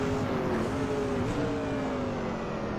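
A Mercedes Sauber C9 Group C prototype race car in Assetto Corsa drones steadily at high revs, a continuous engine tone with slowly shifting harmonics holding on a straight, with no talk over it.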